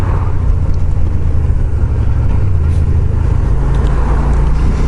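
A 2005 Suzuki SV650 motorcycle on the move, its engine a steady, loud, close drone blended with constant wind rumble throughout, with no talking.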